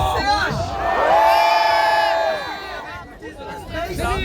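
Large crowd at the GP Explorer motor event cheering and shouting, a swelling roar of voices that peaks in the middle and then breaks into scattered whoops and yells, close and loud.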